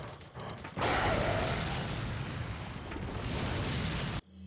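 A video game grenade goes off in a loud, broad blast that rumbles on for several seconds before cutting out abruptly.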